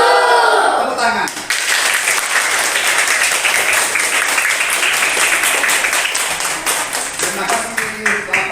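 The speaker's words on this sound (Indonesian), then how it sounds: "Tepuk tangan." A room of teachers and staff at a meeting in Jepara breaks into loud, close applause after a spoken agreement, steady clapping that starts after a brief voice and runs on for several seconds before trailing off.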